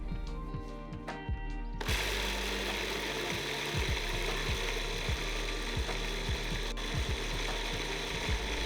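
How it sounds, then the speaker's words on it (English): A food processor blending sliced chilies and ginger into a paste for Sichuan-style chili sauce: a few light clicks first, then the motor kicks in with a loud, steady whirring grind and rhythmic rattling knocks that continue to the end. "Add them to the food processor. Blend until all the chilies are a smooth paste."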